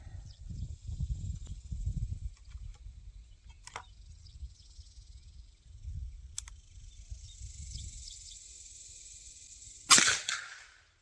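A .44 Magnum rifle firing Barnes VOR-TX rounds at a 100-yard range gives one loud, sharp crack near the end, after a quiet outdoor stretch with low wind rumble and a few faint clicks.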